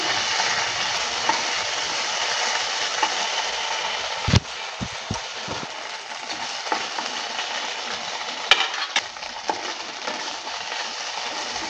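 Spices sizzle and crackle steadily in a hot pan for a squash ghonta cooked with Gobindobhog rice, with occasional sharp knocks of a spoon stirring and scraping the pan.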